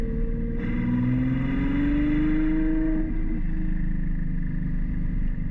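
A loud, close Ferrari 812 V12 engine with a Novitec sports exhaust revs up in a rising howl, peaks, then drops back to a rumbling idle, with no talking.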